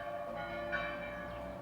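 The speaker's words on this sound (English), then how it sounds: "the church bells are ringing." Church bells ring steadily in the distance, a faint sustained tone with no talking.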